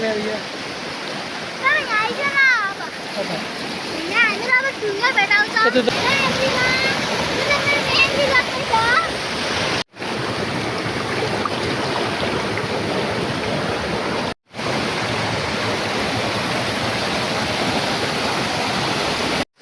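Constant rushing of a waterfall, loud and close, fills the whole clip; a person talks briefly over the roar near the start.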